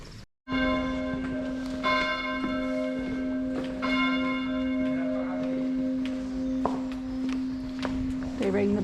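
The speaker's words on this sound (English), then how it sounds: "They rang the bell to wish us on our way." A church bell on the Camino route from France to Spain rings with a long, sustained resonant tone and shimmering overtones, struck again several times, heard at moderate distance with faint voices beneath.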